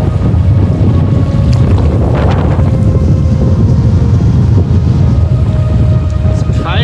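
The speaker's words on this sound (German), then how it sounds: "Der Wind hier, aber mit sauberem Rückenwind fetzen wir auf die Zielgerade zu" Strong wind roars steadily across the microphone during a packraft run on the Karnali River in Nepal, a constant loud gusting rush that fills the whole stretch with no break.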